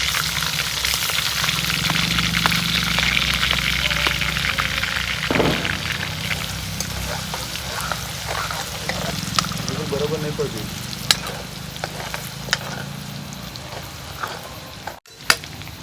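Garlic paste frying in a hot pan, a steady sizzle and bubbling with occasional clicks and stirring, a voice talking faintly under it at times.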